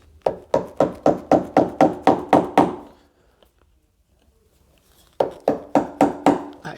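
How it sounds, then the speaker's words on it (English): Chisel knocked into wood while setting a door hinge: a burst of about nine rapid, evenly spaced sharp taps, a pause of near silence, then another run of five quick knocks, close and alone. "So if I just knock that there with the chisel"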